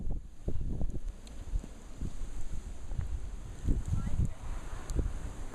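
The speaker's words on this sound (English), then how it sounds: "And it's windy and very cold." Gusty wind during a Long Island blizzard in December 2010, buffeting the microphone in uneven low bursts and whooshes against a steady hiss.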